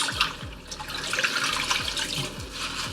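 Water runs steadily from a tap into a sink while collard greens are rinsed, splashing and trickling continuously with small knocks and movements underneath.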